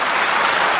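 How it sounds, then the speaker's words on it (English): A burst of applause from a debate audience, dense and steady clapping filling the moment. "No, don't applaud that."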